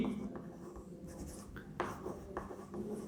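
Writing on a board during an English grammar lesson, with faint close scratchy strokes in short irregular bursts over a quiet room hum.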